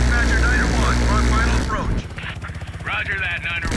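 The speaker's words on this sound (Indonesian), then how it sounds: "kita diserang sama helikopter musuh juga" Enemy helicopter in the video game Call of Duty: Black Ops Cold War, a steady engine and rotor drone with rapid rhythmic chopping, loud and continuous beneath game dialogue.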